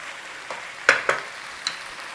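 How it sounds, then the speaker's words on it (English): Food frying in a pan with coconut milk, a soft steady sizzle with a few sharp pops and spits standing out, close by and without any talking. "Just give it a little fry,"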